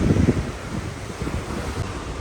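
Strong wind buffets the microphone on an open cruise ship deck during a day at sea aboard the Celebrity Constellation, a steady loud rumble mixed with the wash of ocean surf below, with no voices.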